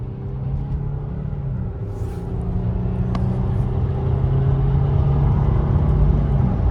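A 2003 Audi A6 3.0 Quattro, a V6 sedan long left sitting, pulls away from a green light at about three-quarter throttle, its engine drone rising steadily and growing louder from inside the cabin.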